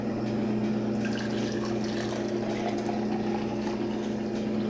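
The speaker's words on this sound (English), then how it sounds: "And I'll just go ahead and pour 8 ounces in here." About 8 ounces of water poured into a manual coffee press, a steady close liquid filling sound over a constant low hum, with no talk.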